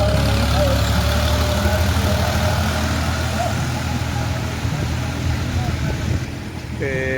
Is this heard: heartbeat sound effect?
no